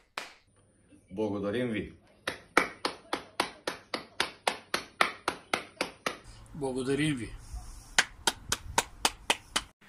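Group of Bulgarian national team players clapping in unison, a steady rhythmic run of sharp claps between two short spoken thank-yous, then another burst of synchronized claps.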